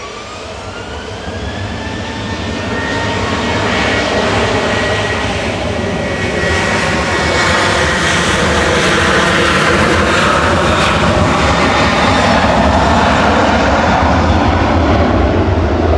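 A jet airliner taking off at Manchester Airport, its engine roar loud and close, swelling over the first few seconds and then holding at a sustained, powerful rumble.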